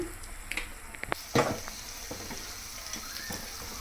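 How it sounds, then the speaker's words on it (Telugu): Spice masala frying in a pan with salt added, a steady close sizzle broken by a few sharp clanks of a spoon or utensil against the pan. "పచ్చి వాసన పోయే వరకు ఫ్రై చేసుకోవాలి."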